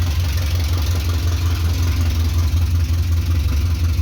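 Talbot Horizon 1.1 car engine idling steadily, a close, loud, continuous low rumble with an even throb and no voices.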